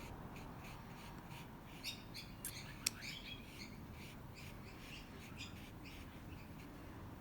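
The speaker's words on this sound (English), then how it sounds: "I hope you can also hear all the pretty sounds of birds in my background." Birds chirp and squawk outdoors in the background, faint scattered calls over a steady low hum, with one brief sharper call near the middle.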